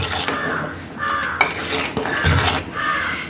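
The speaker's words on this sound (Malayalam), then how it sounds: "ഈ തേങ്ങാപ്പാൽ ചേർത്തിട്ട് നമ്മൾ അടച്ച് വെക്കരുത്, ഇങ്ങനെ ഒന്ന് ഇളക്കി കൊടുക്കണം" Mango curry with coconut milk being stirred in a pan for a Kerala Angamaly-style dish, with soft scraping and light metallic clinks of a spoon against the vessel coming in short repeated strokes, close and moderately loud.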